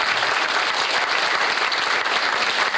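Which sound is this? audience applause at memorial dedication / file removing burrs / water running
audience applause at memorial dedication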